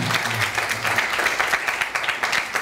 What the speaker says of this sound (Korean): 우리 한번 큰 박수로 울리는 우리 찬양팀.